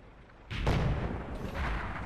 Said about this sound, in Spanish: el disparo ha ido totalmente desviado